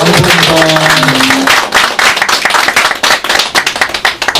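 An audience at a judicial reform roundtable gives sustained applause, loud dense clapping that thins into scattered claps toward the end, with a brief voice speaking at the start.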